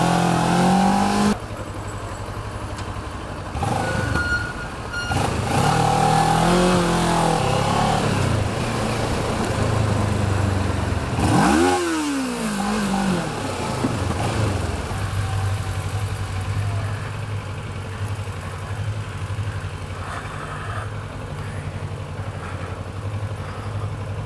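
A Harley-Davidson Sportster motorcycle engine on a London street, revving loudly with a rising and falling swell midway, then settling into a steady idle, heard close and continuous under traffic noise without speech.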